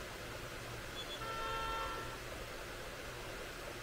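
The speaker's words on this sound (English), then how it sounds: "Don't you honk at me." A car horn sounds in the Watch Dogs Legion video game, one sustained honk around the middle of the clip rising over a steady wash of street and engine noise.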